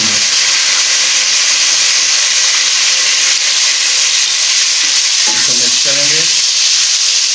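Meat for Kabuli pulao frying and being stirred in a pot, a loud, constant sizzle and hiss with a few scraping stirs of the spoon toward the end.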